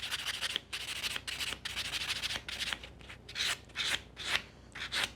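A nail buffer rubs back and forth over a builder gel nail extension, giving soft, close scratchy strokes in an uneven rhythm, fairly quiet with short pauses between passes.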